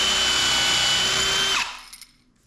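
A power drill whines loudly and steadily while drilling for a pocket door pull, then cuts off abruptly as the motor winds down, followed by a couple of faint clicks.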